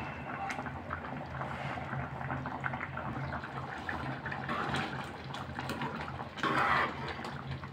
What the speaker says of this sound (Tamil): மீடியம் ஃப்ளேமில் 8 நிமிஷம் நான் கொதிக்க விட்டேன்